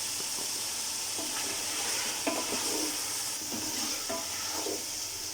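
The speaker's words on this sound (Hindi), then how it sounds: "टमाटर को सॉफ्ट होने तक हम इसमें भूनेंगे मटन के साथ।" Chopped tomatoes frying with mutton in a pot give a steady, close sizzle and hiss, broken by several scraping stirs of a spoon against the metal.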